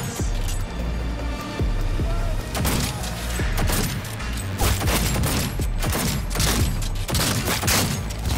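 Rapid bursts of gunfire in the Cyberpunk 2077 Phantom Liberty expansion, loud sharp shots in clustered volleys across the whole stretch, with a few brief pauses between bursts.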